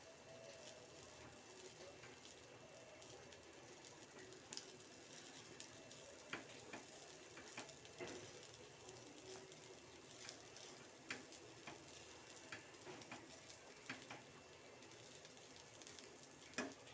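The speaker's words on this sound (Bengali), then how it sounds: "চালটা দিয়ে আমরা খানিকক্ষণ চালটাকে নেড়ে চেড়ে নেব" Gobindobhog rice stirred and fried in melted butter gives a faint, soft sizzle with scattered ticks and scrapes of the spoon against the pan, steady and close, with no speech.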